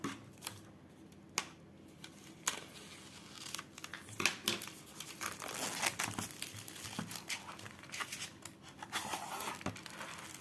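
Close-up snipping and crinkling as packaging is cut open, sharp scissor clicks scattered among rustles of plastic and paper.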